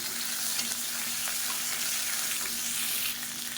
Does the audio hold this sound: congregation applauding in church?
no